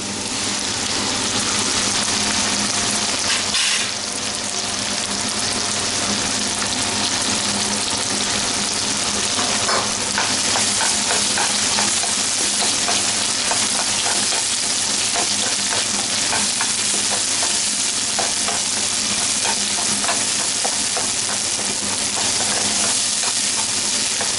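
Steady loud sizzling of ground spice paste frying in a hot pan for Bihari-style stuffed bitter gourd, with intermittent scraping and stirring strokes throughout.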